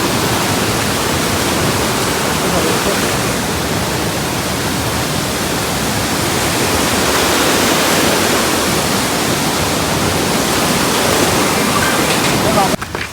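Devkund waterfall in Raigad, Maharashtra, roars loud and near, a thick, unbroken rush of falling water filling the whole clip with steady white-noise power.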